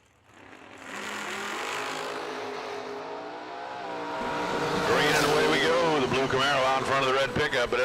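Drag racing cars, among them a Camaro, launch off the line with a roaring, rising engine note that builds, then crackles into loud, harsh revving; an announcer talks over the racket.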